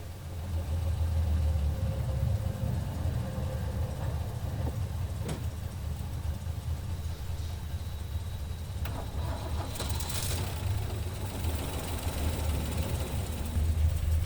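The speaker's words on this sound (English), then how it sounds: "what I'm going to do here is wind the engine over" A Land Rover Series 3 engine is wound over by hand, producing a steady low mechanical churn that runs throughout at moderate level, with a few faint metallic clinks and a brief higher rattle near the end, without any speech.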